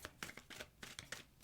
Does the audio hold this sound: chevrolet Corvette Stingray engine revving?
no